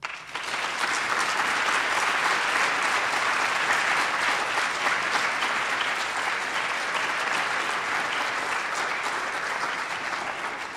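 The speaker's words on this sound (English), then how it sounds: "I want us all to clap and congratulate Dr. Mala and his team for 10 exceptional years" Conference audience breaks into sustained, even applause congratulating Dr. Mala and his team for ten exceptional years, a broad wash of many hands clapping steadily for about ten seconds in a large hall.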